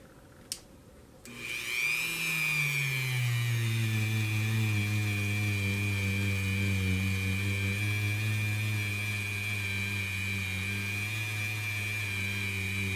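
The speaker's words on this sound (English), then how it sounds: "So I'm going to dip each side of this and that wheel into there. And we're going to start this polishing process." A polishing wheel works on a CZ P10C pistol barrel. After a click, the buffer motor whirs up to speed, then holds a loud, steady, high-pitched hum with a low drone for several seconds.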